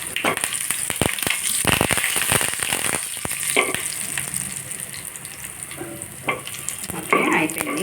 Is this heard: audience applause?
no